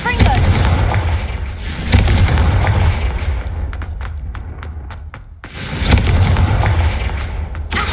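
Confringo spell blasts in the Hogwarts Legacy video game, loud booming impacts with rumbling low end and a rapid crackle of smaller bursts between them, close and powerful.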